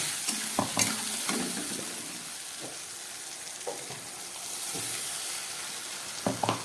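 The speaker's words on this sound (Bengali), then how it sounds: "খুব ভালো করে এবার মশলাটাকে আমি কষাচ্ছি।" Ground paste of onion, garlic, ginger, dried chilli and black pepper with tomato frying in a pan for a rohu fish curry, a soft steady sizzle broken by a few sharp spoon scrapes and stirs, close and unaccompanied by speech.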